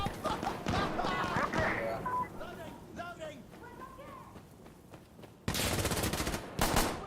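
Automatic rifle in a video game firing two loud, dense bursts near the end, following a stretch of excited talking with scattered earlier shots underneath.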